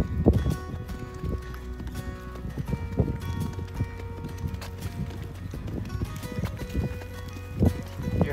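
Horse hooves clip-clop steadily at a walk while a rider heads back to a truck on an Arizona cattle drive, with irregular footfalls, tack rattles and occasional outdoor noise, no speech.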